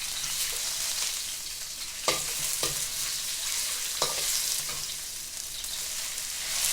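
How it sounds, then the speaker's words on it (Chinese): Shiitake mushrooms fry in oil with shredded ginger, a constant loud sizzling hiss close to the pan, broken by a few sharp scraping strokes of a spatula stirring them, with no talking. "我们就放在这个油放在姜丝里面爆，大概是爆1分或者1分多钟，把冬菇的香味搞出来了就行了"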